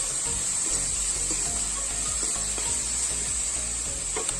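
Garlic ginger paste sizzles steadily in a hot pan, a constant bright hiss with soft intermittent stirring scrapes underneath, close and moderately quiet.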